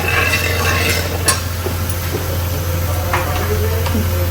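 Cumin seeds sizzle in oil in a very hot kadai, making a steady, close hiss over a low constant hum, with a few faint clinks from stirring.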